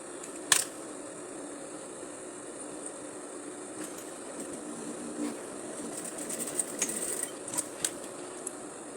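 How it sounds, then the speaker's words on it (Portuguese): Sewing machine finishing the stitching on belt loops of tailored shorts, backstitching to lock the seam: a steady low mechanical whir with faint clicks and a sharp tap near the start, fairly quiet and close, no voices. "fazendo o retrocesso, arrematando a costura"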